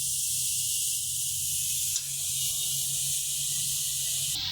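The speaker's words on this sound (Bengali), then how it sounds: "সে এখন কড়াইয়ে দিয়ে নাড়াচাড়া করে নিচ্ছে" Chhana being stirred in a kadai, a steady hiss of sizzling with faint scraping underneath. The sizzle holds fairly constant at moderate loudness, with a slight knock near the middle.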